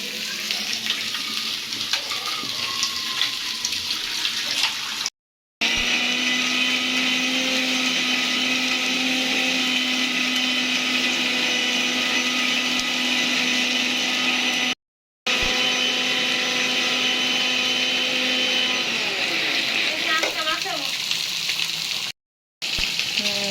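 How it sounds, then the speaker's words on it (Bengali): An electric blender grinds spices in a home kitchen with a loud, steady motor whine that holds its pitch throughout, broken only by a few brief gaps. "মশলা ব্লেন্ডার করা চলতেছে"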